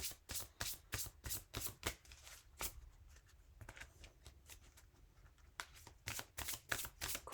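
Belinda Grace love oracle cards being shuffled by hand nearby, quick crisp riffling bursts in a run, a short pause, then another rapid flurry of flicks.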